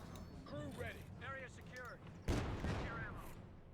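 An MG42 machine gun opens fire in Company of Heroes 2 with a sharp burst of rattling fire that continues under a commentator's voice, after a stretch of talk over quieter battle noise.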